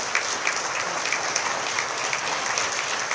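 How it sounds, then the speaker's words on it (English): Applause for the president at a foreign ministry Lunar New Year gala in Taipei, a dense, even clapping from a crowd held throughout at moderate loudness. "give our president a big round of applause"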